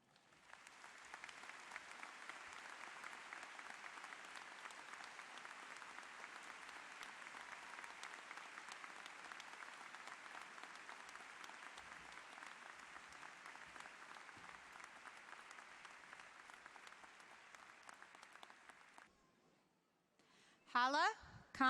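Graduates applauding at a university commencement ceremony, a dense sustained roar of clapping that holds steady for about nineteen seconds and then fades, with a brief voice at the end.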